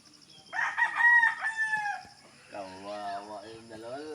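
A rooster crows nearby, one long strained call followed by a second lower, drawn-out crow, outdoors on a hillside.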